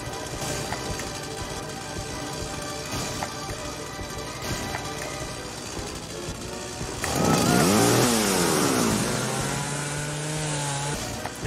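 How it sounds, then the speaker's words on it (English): Chainsaw revving up in a Leatherface Texas Chainsaw Massacre fan video game, a loud rising engine roar bursting in partway through and sustaining over a steady game ambience. "So start the chainsaw with the right mouse."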